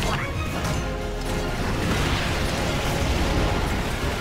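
Artillery barrage explosions in the sci-fi strategy game Starship Troopers: Terran Command, a dense, continuous rumble of booms and crashes holding steady for several seconds with no clear gaps between blasts.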